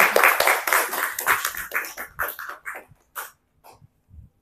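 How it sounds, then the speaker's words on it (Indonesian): A room full of people applauding, with dense clapping at first that thins into a few scattered claps and then fades out. "Kasih aplaus dulu buat Bu Hermi"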